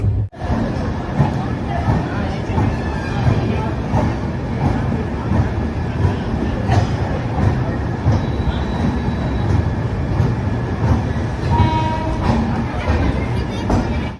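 Nandan Kanan Express pulling into Kanpur Central station: steady, loud rumble and clatter of rail cars rolling along the track for the whole stretch, with faint metallic squeals and murmuring station crowd beneath.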